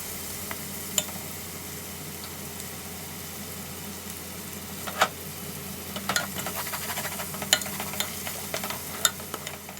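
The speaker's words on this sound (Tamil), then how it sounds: "இஞ்சி பூண்டு சேர்த்ததுக்கப்புறம் அதோட பச்சை வாசனை போகிற அளவுக்கு நல்லா வதக்கி விட்டுக்கலாம்." Ginger garlic paste sautés in a hot pan for prawn biryani, with a steady moderate sizzle and scattered stirring scrapes and taps that grow more frequent toward the end, with no talking.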